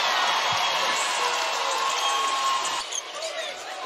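Arena crowd cheering at a women's basketball game, a loud sustained roar filling the whole clip that dips slightly near the end, with a commentator's voice running over it.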